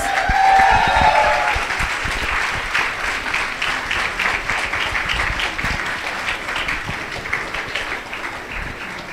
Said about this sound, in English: can we hear a round of applause to both the batches